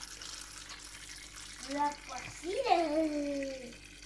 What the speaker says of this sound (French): Et on va mettre de l'eau.